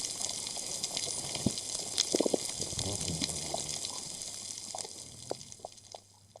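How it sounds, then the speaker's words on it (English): Underwater sound of a healthy coral reef: a dense bed of faint crackling, popping and clicking, with scattered louder snaps and a soft low hum, fading slightly toward the end. "So this is the sound of a healthy coral reef"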